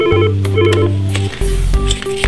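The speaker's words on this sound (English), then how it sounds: "Then dial the 10-digit phone number or 3-digit internal extension." A Yealink T20 desk phone's keypad gives a quick run of dual-tone dialing beeps, loud and close, each tone short and steady with brief gaps between key presses, and no talking.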